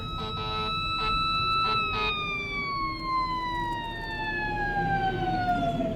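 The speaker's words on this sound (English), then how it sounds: "we got a fire truck coming at us over here" Fire truck siren wailing steadily as it approaches along a New London, Connecticut street, its tone sliding gradually lower, loud and close over road and engine rumble, with no one speaking.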